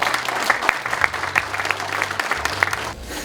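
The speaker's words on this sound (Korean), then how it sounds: "뜨거운 박수로 환영 신고하겠습니다" Warm applause from the audience greets the team manager at the SK Wyverns rookie signing ceremony, a steady patter of many hands with a few louder individual claps, fading slightly at the end.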